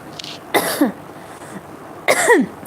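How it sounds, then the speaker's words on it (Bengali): Two separate bursts of coughing, close to the microphone and fairly loud, the first around half a second in and the second near the end, with quiet room tone between them and no talking. "হঠাৎ করে কাশি উঠে গেল।"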